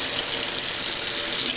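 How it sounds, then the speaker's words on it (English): Hot water runs steadily from a tap into a sink basin, a loud, continuous close-up rush of filling water with no talk. "So what I'm going to do is fill my sink here,"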